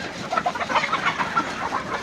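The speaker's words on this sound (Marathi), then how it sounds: "बघा कोंबडा किती मोठा कोंबडा आहे" Desi free-range village hens and a large rooster from a flock of about seven hundred cluck in a steady busy chorus, moderately close, with no talk.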